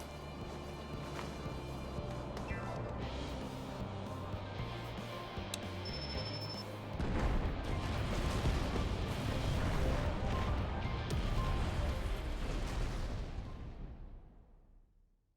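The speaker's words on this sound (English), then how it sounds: "Then let the fireworks begin." Fireworks explode in Final Fantasy XIV, a continuous loud rumble of booms and crackling blasts that swells partway through and then fades out, with no voices.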